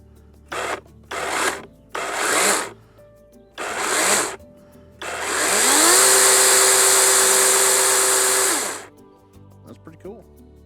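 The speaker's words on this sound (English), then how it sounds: "Let's bench test it. Let's see if it works." A DeWalt DCCS621B cordless chainsaw is bench-tested: several short, loud bursts of the motor, then a sustained high whine of about three seconds that rises to speed and winds down, close up.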